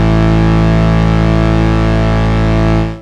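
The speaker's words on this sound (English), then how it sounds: "So let's get our drone going." A steady, buzzing ARP 2600 analog synthesizer drone with rich stacked harmonics, loud and unchanging, cutting off abruptly at the end.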